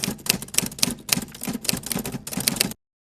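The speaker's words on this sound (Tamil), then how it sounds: "ஓ, இன்னும் டைப் பண்ணி முடிக்கல." Keys clatter in quick, uneven bursts of typing, crisp and close, with no voices, then stop abruptly.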